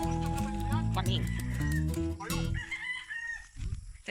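Rooster crowing loudly nearby on a rural Bicol farm in the Philippines, with chickens clucking and people talking over the birds.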